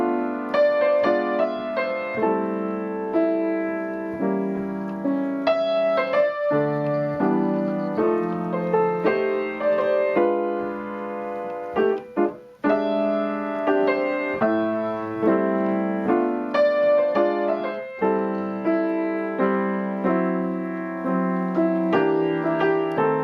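Jazz seventh chords struck as block chords on piano, a steady sequence of full sustained chords changing every second or so, loud and close with no talking.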